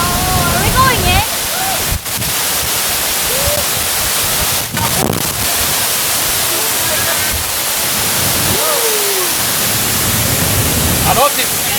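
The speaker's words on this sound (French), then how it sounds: "Ah oui, là, la cascade" Waterfall in Mauritius: a loud, constant broadband roar of falling water close by, with a few brief voices calling out over it.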